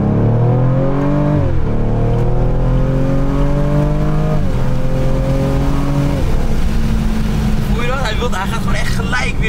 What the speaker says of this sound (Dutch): het is zo lekker om weer in zo'n auto te rijden dan